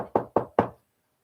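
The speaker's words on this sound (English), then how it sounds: "I hear you knocking, but you can't come in." Three firm knocks on a door in an even, quick rhythm, close and fairly soft, followed by silence.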